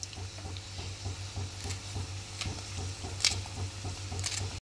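Sliced onion and two green chilies sauté in oil in a pan, a soft crackling sizzle under quiet stirring scrapes, faint and close, cutting off at the end.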